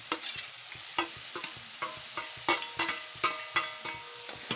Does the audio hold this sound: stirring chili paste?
yes